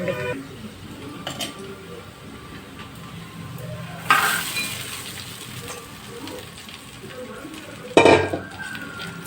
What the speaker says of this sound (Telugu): రైస్ ఉంది కదా దాన్ని ఈ పోపులో వేసేసి కలపాలి